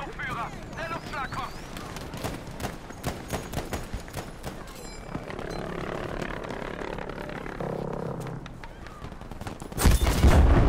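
V1 rocket airstrike in the video game Battlefield V, amid dense rapid gunfire and crackling shots, ending in a sudden loud blast near the close.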